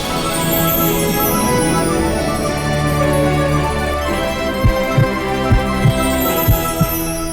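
A heartbeat sound effect from a magic ball in a fantasy TV drama: a steady run of low, deep thumps in the second half, over a sustained musical drone.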